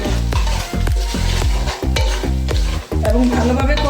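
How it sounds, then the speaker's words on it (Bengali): A spoon stirs khichuri ingredients with masoor and mung lentils as they sauté in a pot, making loud, rhythmic scraping strokes over a continuous sizzle. "এগুলি দিয়ে ভালো মতো নেড়ে চেড়ে কষাই নেব।"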